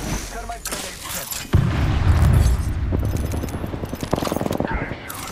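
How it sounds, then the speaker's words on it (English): Thermite grenade in a video game: a sudden sharp blast, then a sustained rumbling, crackling burn that carries on for several seconds at close range, with a voice nearby. "Thermite grenade set."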